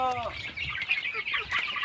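Several chickens clucking and squawking nearby on a farm in a busy, overlapping jumble, with a brief voice-like sound at the start.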